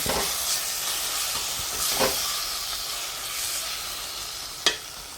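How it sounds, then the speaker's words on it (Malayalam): Chilli and turmeric powder stirred into hot frying oil for a mackerel fish curry, a steady hiss and sizzle with soft spoon scrapes and one sharp click near the end. "രണ്ട് സ്പൂൺ മുളക് പൊടി നന്നായി മിക്സ് ചെയ്തെടുക്കാം എണ്ണയിൽ"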